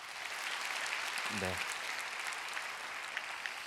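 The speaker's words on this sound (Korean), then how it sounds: "우리 박수 한번 쳐주시죠" A church congregation at a Friday prayer service claps in a steady, faint wash of applause for a few seconds, with a brief spoken word from a voice partway through.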